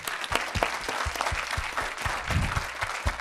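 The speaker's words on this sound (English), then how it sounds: "Let's give them a big round of applause." Audience applauding panelists at a regional live-and-work success stories session on Cape Cod, a steady crowd clapping with distinct nearby claps over a dense wash, continuous for a few seconds.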